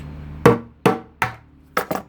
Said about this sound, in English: Phillips screwdriver and a hammer, lay it on something solid just below the ridge